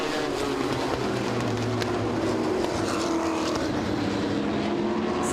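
Vintage modified race cars roar around the Owosso Speedway oval, a steady loud engine drone with passing cars swelling in and out, continuous and close for the whole stretch.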